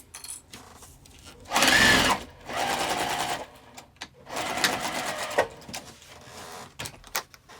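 A sewing machine stitches around the edge of a crossbody bag in bursts: a loud run of about a second, then two longer runs with short pauses between, close and without talk.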